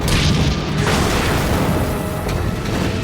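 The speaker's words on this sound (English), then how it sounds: "there's a secondary explosion that blows the turret off that tank" A tank struck by a HEAT shaped-charge round in a Gulf War battle erupts in a secondary explosion that blows off its turret, a loud, sustained broadband roar and rumble lasting several seconds without speech.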